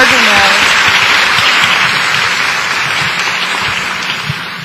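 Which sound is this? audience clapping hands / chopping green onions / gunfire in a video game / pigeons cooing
audience clapping hands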